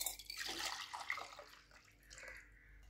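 Sabja buttermilk is poured back and forth between vessels to mix it, giving soft, quiet splashing and trickling liquid sounds that ebb and swell, with no voices.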